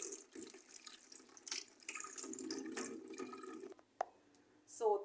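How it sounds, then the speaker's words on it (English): Dried hibiscus flower petals being washed in water at a sink, with running tap water splashing steadily under talk and a few louder sloshes near the end. "You wash the petals."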